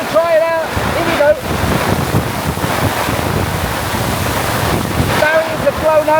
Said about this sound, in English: my guess is the 60-mile-an-hour winds